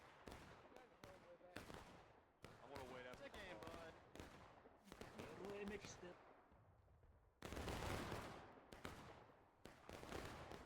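Musket fire in a Civil War battle video game, with repeated sharp shots and dense clustered volleys, some near and loud, others scattered, mixed with a voice talking over the action.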